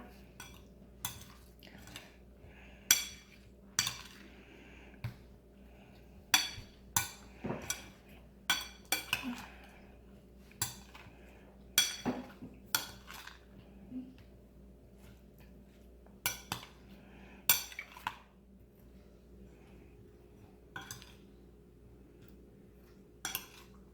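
Spoon clinking and scraping against a bowl while honey is stirred into a chia seed fruit salad, a scattered run of light, sharp taps over about twenty seconds, close and quiet.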